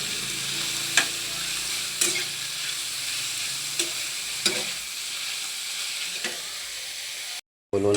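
Chicken liver with chili sizzling steadily in a frying pan, with a spoon or spatula scraping and stirring at roughly one-second knocks throughout, close and continuous.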